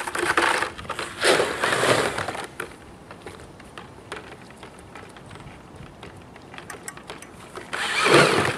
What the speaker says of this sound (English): Now I have to immediately rinse out my egg beater mixer